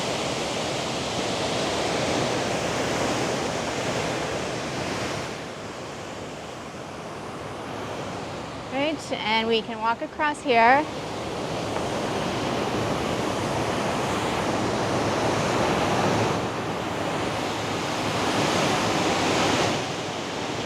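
Rushing river water at the Merrickville locks in Ontario roars loud and steady, a dense continuous wash with wind buffeting the microphone; a person speaks briefly partway through.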